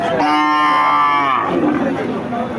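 Thin, bony cattle at the Chowgacha cattle market in a border area give a single long, close moo lasting over a second, followed by faint market background noise.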